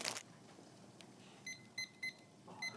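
A kitchen timer set for ramen cooking gives a string of short, faint electronic beeps, four or five evenly spaced chirps in a quiet room after a brief rustle.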